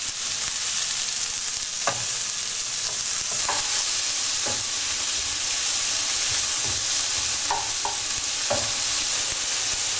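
Sliced peppers and onions stir-fry gently in a pan with a steady close hiss, punctuated by occasional utensil scrapes and taps as they are stirred, no voices present.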